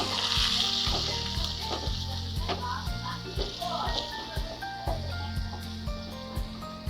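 Green chilli paste sizzles steadily in a pan over low gas, a constant close frying hiss with occasional soft stirring scrapes.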